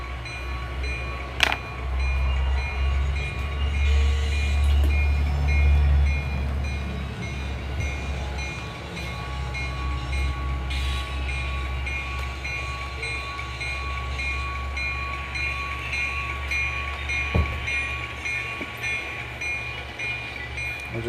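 A freight train pulls forward while switching cars on a transfer line, a low continuous rumble of the locomotive and rolling wagons with faint squeals and a couple of sharp metallic clanks.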